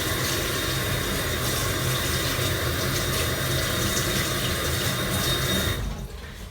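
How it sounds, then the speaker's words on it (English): A kitchen tap runs steadily while buttery hands are washed after mixing sugar and butter for Halloween biscuits; the water is a constant close rush that stops abruptly near the end. "if you've got like buttery hands or anything, then give them a wash."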